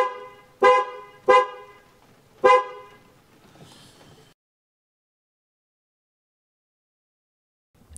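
Three short, loud car horn honks from a Peugeot 205 Turbo under test, the first two close together and the third a moment later, followed by a faint fading tail and then near silence.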